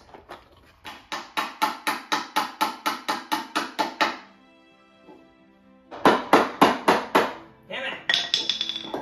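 A hammer drives nails into a wooden box in a quick run of about a dozen sharp, evenly spaced blows. After a pause, another burst of rapid strikes follows, loud and close.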